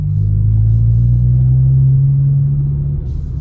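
Hyundai i20N engine holding a loud, steady low drone that climbs slightly in pitch over a few seconds, close by with no talking.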